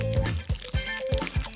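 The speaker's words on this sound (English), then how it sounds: "Dribble some into water." Nail polish dribbled in a zigzag into a bowl of water makes a quick run of small, close drips and plops, several in rapid succession.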